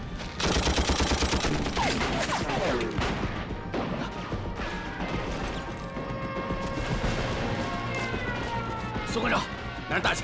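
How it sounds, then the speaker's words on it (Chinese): Bursts of gunfire crackle through a scene in a kung fu prison action film, rapid shots layered with loud crashes and shouting voices. "外面有枪声"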